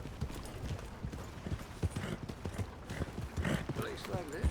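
Horse hooves clip-clop at a brisk gallop in the Red Dead Redemption video game, the rhythmic thuds carrying under speech along with some faint mechanical clatter.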